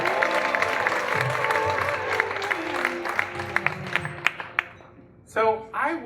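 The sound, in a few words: audience applause for storyteller Oscar Sagastume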